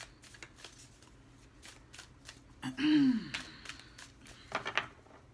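A Moonology oracle card deck being shuffled, a brief riffle of cards that swells to a loud, close flurry for a moment before fading to light card handling, with no talking.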